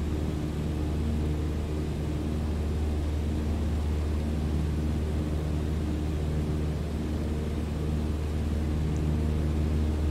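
A Cessna 152 single-engine propeller plane in Microsoft Flight Simulator 2020 drones steadily in cruise, a constant loud engine hum and cabin rumble throughout with no talking.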